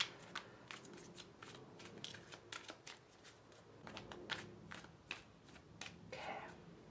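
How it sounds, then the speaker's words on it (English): Tarot cards shuffled close by in quick, crisp riffles and snaps, a brisk run of sharp bursts with soft rustling in between. "Just a quick shuffle."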